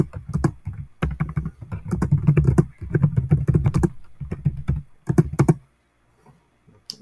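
Fingers type on a computer keyboard in quick bursts of close clicking keystrokes, with short pauses between runs and a brief silence at the end.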